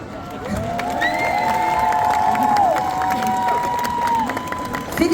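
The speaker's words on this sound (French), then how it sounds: "hop, on applaudit" A crowd cheers, whoops and shouts as a cosplay group wins first prize at the Japan Tours Festival contest, with high excited voices rising over steady clapping for about five seconds.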